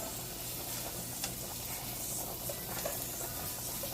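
Mushrooms stirred in a hot pan, sizzling steadily with scraping, stirring texture throughout, close and moderately loud with no talk.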